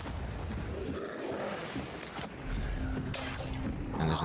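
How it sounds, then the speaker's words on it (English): Gunfire in the Yakuza 0 video game comes as a few dull booming shots scattered over a steady, busy game background, fairly muffled rather than sharp. "I hear gunfire."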